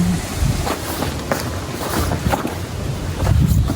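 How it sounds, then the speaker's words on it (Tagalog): Wind gusts across a rooftop garden on an overcast day, a rumbling, buffeting rush that swells and eases and knocks against the microphone. "mahangin."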